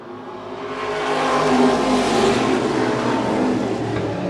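Modified stock cars at a green flag start, a dense pack of engines swelling into a loud roar around the middle and holding as the field runs tire to tire.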